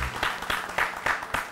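Audience applause at a women farmers' award ceremony, arriving in several quick bursts of clapping from a crowd, moderately loud and close.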